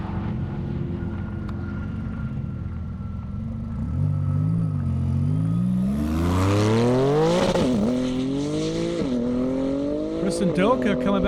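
A Corvette drag car spins its tires in a burnout on an airstrip drag strip, engine note rising and wavering through revs with squealing hiss, heard from a distance under an announcer's talk.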